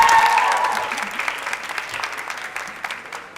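An audience at a school cooking competition final claps together in a loud, dense burst of applause that gradually tapers off.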